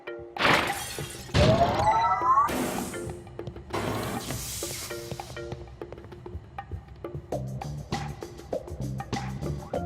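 Glass breaks repeatedly in the video game Quantum Conundrum, a series of sharp shattering crashes early on, then lighter clinks and game sounds that trail off.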